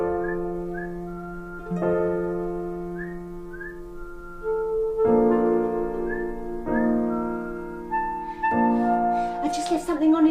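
A person whistles a series of clear, sustained notes with short rising chirps, loud and close, repeated in phrases over several seconds.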